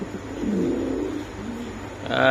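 A White Granadino pigeon gives a low, soft coo close by, a single drawn-out call followed by a faint rustle at the end.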